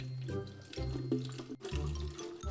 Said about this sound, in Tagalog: So tara, alisin na natin itong pinakatubig na to.